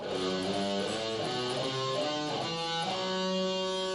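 A scale in the dark Locrian mode played note by note on a sustained, keyboard-like instrument, clear and steady with no talking.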